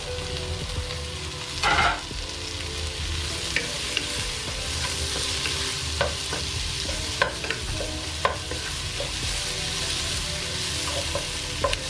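Chopped onions sauté in a pan for a Kerala-style duck curry, hissing and crackling continuously while a spoon scrapes and taps against the pan now and then, with one louder stirring burst early on.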